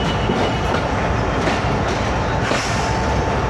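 The Awam Express passenger train running on rails between Rohri and Mahrabpur, heard from on board as a loud, steady rumble of wheels and carriages with faint rhythmic clatter throughout.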